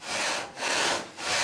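A saw cuts through a large tree trunk in three loud, rhythmic back-and-forth strokes, each a rasping wooden scrape with a brief dip between passes.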